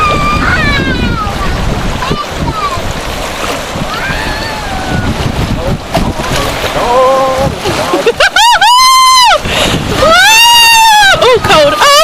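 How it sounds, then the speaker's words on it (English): Whitewater chop on the Shenandoah River splashes and rushes against a canoe, with wind buffeting the microphone and excited shouts and voices from the paddlers over the water noise. "Whitewater, little chop."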